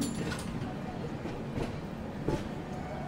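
The Duronto Express from Lokmanya Tilak Terminal runs after departure, with a steady rumbling interior drone and faint periodic clicks of the wheels.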